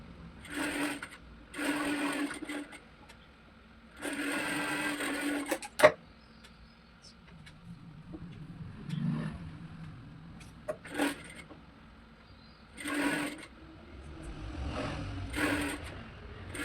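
A domestic sewing machine stitching fabric pieces for a baby bedsheet, running in repeated bursts of a few seconds with pauses and small clicks between, close and fairly loud.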